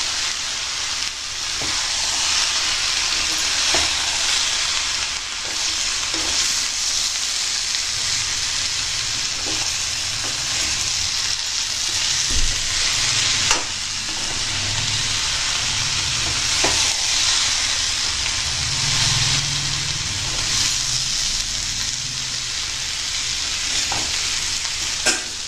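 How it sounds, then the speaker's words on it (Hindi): Bottle gourd and masoor lentils sauté in a pan, a loud, steady sizzle with continuous frying hiss and occasional scraping stirs of a spatula, close up throughout. "इस तरीके से सभी कुछ डाल करके एक साथ आप इसको भून लीजिए।"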